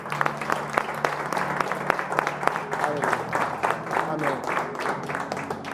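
Applause from a church congregation welcoming visitors, individual claps distinct and fairly rhythmic over a steady bed of clapping, with voices mixed underneath.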